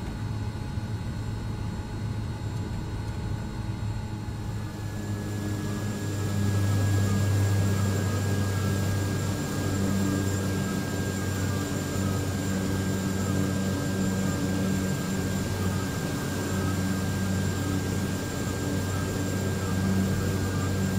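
Quest Kodiak single-engine turboprop taxiing and turning around on the runway in Microsoft Flight Simulator: a steady close turbine whine and propeller drone that grows slightly louder about a third of the way in, then holds evenly throughout, with no talk.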